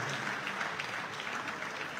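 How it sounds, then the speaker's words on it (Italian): Sustained applause from the audience at a book presentation in Ascoli Piceno, greeting two political candidates. It is an even, moderately distant patter of many hands clapping together. "fate un applauso ai due candidati che la Lega propone"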